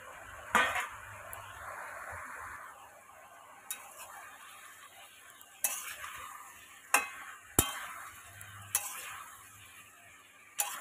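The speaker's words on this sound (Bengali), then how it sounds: "আলু দিয়ে এইভাবে ভালো করে কষে নেব মশলার সঙ্গে।" Potatoes stir-fried with spices and pumpkin stalks in a Bengali-style pan, with soft frying hiss and several sharp utensil knocks and scrapes against the pan spaced out over the clip.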